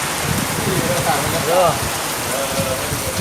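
Steady rain falls outside during outdoor cooking of fresh clams, a continuous broadband patter throughout, with a brief whistling or chirping tone partway through and some faint background voice.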